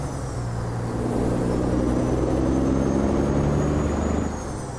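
A Peterbilt 389 truck hauling a lowboy trailer rumbles steadily with a deep, continuous engine drone, close and loud, its pitch shifting slightly before easing off at the end, with no voices.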